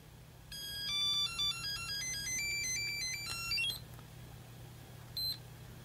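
A Bandai Thoroughbred Maker LCD handheld game plays a loud, shrill electronic beeping melody of stepped tones after power-on, then stops, with one more short beep a moment later.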